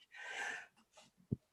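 A single close sneeze, a sharp breathy burst followed by a few soft breaths and a short low snort, quiet overall.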